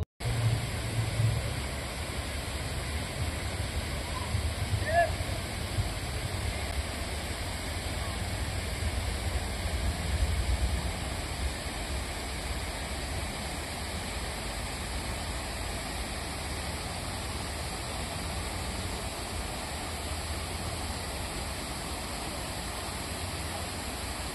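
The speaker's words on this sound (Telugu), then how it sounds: "దానికంటే ముందుగా ఈ యొక్క వాటర్ ఫాల్స్ సౌండ్ అని వినండి." Artificial waterfall at the Hanging Garden in Kalba, a steady broadband rush of falling water that holds at an even level throughout, close and loud, with faint traffic-like rumble underneath.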